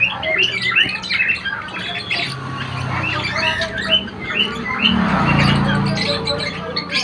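Many birds squawk and chirp overlapping in a bird shop, busy and fairly loud throughout, with constant bright calls and low shop background noise.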